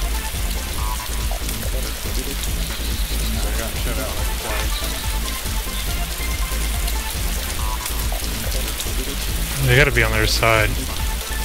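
Heavy, constant rain in the video game DayZ patters loudly throughout, with voices talking over it and a sharp burst of other noise near the end.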